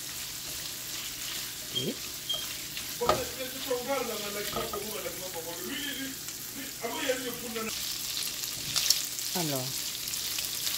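Shrimp fry in oil and butter with a steady, moderate sizzle and occasional utensil scrapes and taps. Someone talks over the cooking in a few short phrases.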